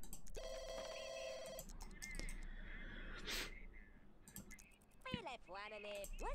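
A telephone in The Sims 2 gives a short electronic ring at the start, followed by assorted game sounds and a voice speaking.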